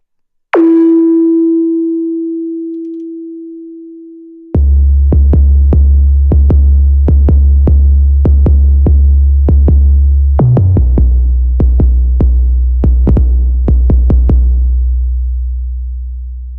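An 808-style bass synth patch built in Logic's ES2 plays a long sustained low tone first. A run of punchy booming bass notes with sharp clicky attacks follows, loud and dry, and the last note fades out.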